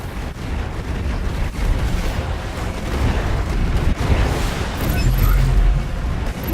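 Naval battle gunfire in the Anno 2205 video game produces a dense, continuous rumble of overlapping explosions and booms, loud and sustained, with a heavier burst near the end.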